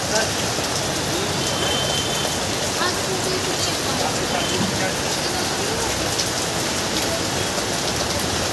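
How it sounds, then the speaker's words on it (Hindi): Rain falling at a vegetable market, with water running off a thatched roof, a dense steady hiss of downpour on surfaces filling the whole clip, close and loud. "बारिश यहाँ भी देखो"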